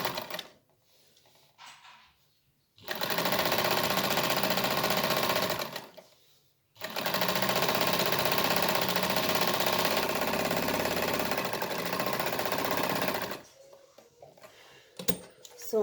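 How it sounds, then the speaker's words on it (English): Sewing machine sewing a quarter-inch French seam, two long bursts of loud, steady, close whirring split by a short pause, with quiet handling sounds before and after. "I make sure I sew 1/4 inch"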